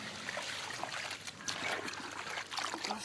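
Plain water is poured into a cooking pot of Tamil mutton or chicken curry, a close, steady trickle and splash that runs throughout.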